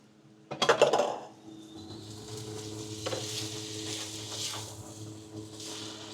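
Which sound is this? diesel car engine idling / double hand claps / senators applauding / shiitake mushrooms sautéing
shiitake mushrooms sautéing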